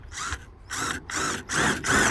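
A Crescent bit holder drives a Torx screw into wood, making close, loud ratcheting whirs in five quick bursts with brief pauses between them.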